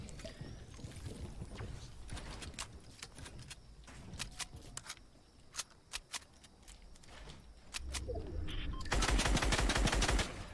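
A minigun fires in the Fortnite video game, sounding as scattered sharp shots that build into a dense, loud rapid burst near the end, with no voices heard.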